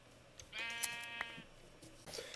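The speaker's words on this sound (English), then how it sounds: "Come here, sheep. I need your wool." A sheep in the Minecraft video game gives one drawn-out bleat, fairly quiet, with a few soft game clicks and thuds around it and no speech.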